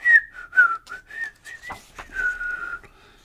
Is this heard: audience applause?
no